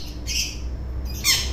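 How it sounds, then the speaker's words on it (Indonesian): A pet lovebird gives two short, harsh, high squawks close by over a steady low background hum, with no talking. "membuat burung lovebird kita ini"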